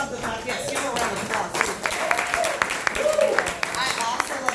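Audience applause breaks out in a room, a steady wash of many hands clapping with a few sharper claps standing out, while a voice talks over it.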